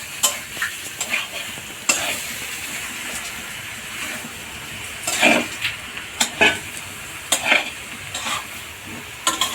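Cauliflower and soybeans with spices are stirred and fried, a steady sizzle broken by repeated sharp scrapes and clanks of a spoon against the pan, close and fairly loud.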